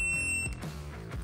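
Multimeter beeping on a continuity test, a steady high-pitched electronic tone lasting about half a second, then brief handling noise.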